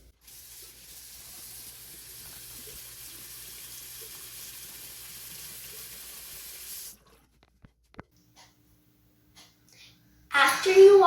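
Tap water runs steadily into a sink for several seconds while hands are washed with soap, a soft, even rush that stops abruptly, followed by near silence and a brief louder noise at the end.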